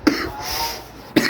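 A person sick with a cold and fever coughs twice indoors, a sharp close cough at the start and another about a second later, with a quieter breathy pause between.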